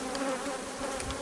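Honey bees buzzing around an open Layens hive during a harvest, a dense steady hum close up with overlapping wingbeat drones and no voices.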